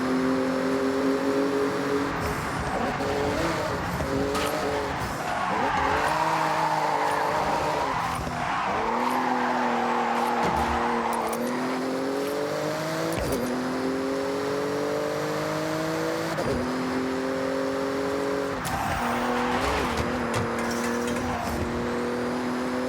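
A Porsche racing through a speed zone in Forza Horizon, a loud continuous engine roar rising and falling in pitch through gear changes, with tire noise and whooshes, close and sustained throughout.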